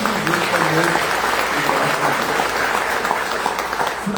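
A church congregation applauds during a service, with a continuous wash of clapping while a voice speaks over it near the start.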